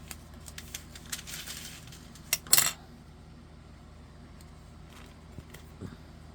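Small shaker card filler pieces for a painted petals paper craft card are dropped in, giving a few light clicks and a brief rattling patter, then quiet with faint taps.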